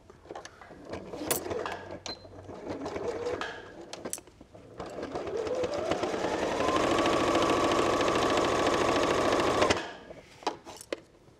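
A home sewing machine runs in a steady, continuous whir for several seconds as it stitches around the edge of a lined fabric pouch, preceded and followed by small handling clicks and fabric rustles.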